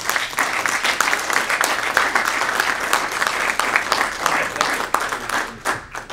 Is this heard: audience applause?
yes